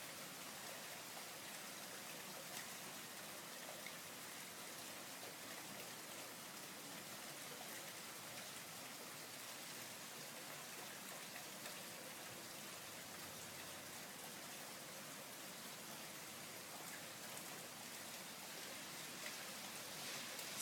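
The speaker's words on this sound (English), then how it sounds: "The rain is still pretty crazy we're getting today." Heavy rain pours steadily after a thunderstorm, a dense unbroken hiss of water with no letup, close and loud throughout, with no voices.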